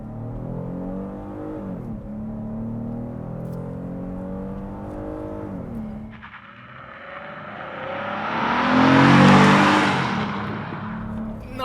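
A 2025 Kia Carnival V6 minivan launches from a brake-boosted standstill without launch control. The engine note climbs through rising revs, dips at a gear change, then swells into a loud, strained roar as it keeps accelerating.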